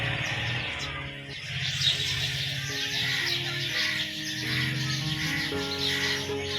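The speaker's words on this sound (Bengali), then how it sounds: "এই যে শুনতে পাচ্ছেন পাখিদের কিচিরমিচির।" Birds chirping on a rooftop in the afternoon, light scattered tweets and calls at moderate distance over a steady background hum, continuous and fairly quiet with no speech.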